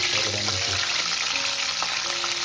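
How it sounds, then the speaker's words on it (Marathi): Curry leaves and green chillies hit hot oil for a prawn curry, giving a loud, steady crackling sizzle that fills the whole span, with faint utensil sounds underneath. "सगळं तेल गरम झाले आता आपण कढीपत्ता टाकून घेऊ लगेच मिरची टाकू"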